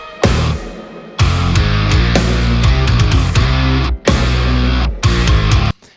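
A heavily distorted bass guitar tone from a mix of a track plays loud and dense, in sustained phrases broken by a few brief gaps, with no one talking.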